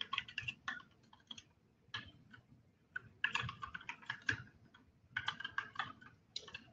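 Someone typing code on a computer keyboard: bursts of rapid, close-up clicking keystrokes with brief pauses between phrases, no voices.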